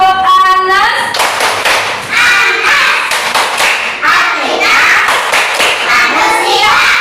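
A group of children claps the Tepuk An-Nas rhythm in a classroom, loud patterned bursts of hand claps mixed with chanted voices and a teacher speaking at the start.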